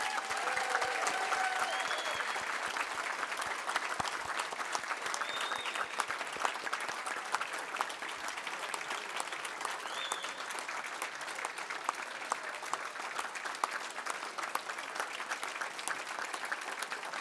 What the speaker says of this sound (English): Let's give them all a big hand